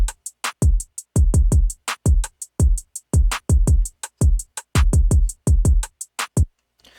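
Programmed drum beat with a rim shot panned partly left added, punchy kicks and sharp snappy hits in a steady repeating groove, loud and dry with no voices.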